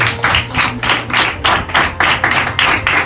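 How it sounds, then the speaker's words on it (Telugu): Audience at a church anniversary service clapping loudly in a steady, even rhythm of about three claps per second, with a low hum of music or amplification underneath. "కాబట్టి గట్టిగా చప్పట్లు కొట్టండి"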